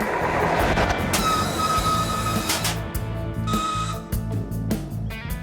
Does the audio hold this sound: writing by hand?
no